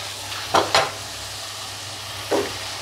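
Cooked rice is tipped into a pan of fried potato, egg and paneer over a steady low sizzle, with two quick scraping pours close together followed by a third a moment later, close up and with no voices.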